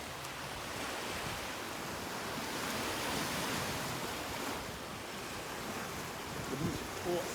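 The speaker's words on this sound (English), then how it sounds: "This beach behind here can also be referred to as Settlers Beach" Ocean waves washing onto Folkestone Beach in Barbados, a steady broadband surf wash with gentle swells in level, mixed with some wind noise on the microphone and a few faint knocks near the end.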